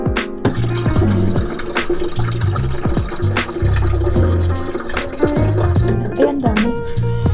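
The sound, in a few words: filtered water poured from the fridge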